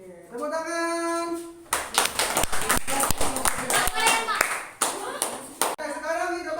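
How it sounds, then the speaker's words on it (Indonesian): Classroom hands clapping in a burst of many sharp claps for several seconds, preceded and followed by children's voices and chatter. "Tepuk tangan."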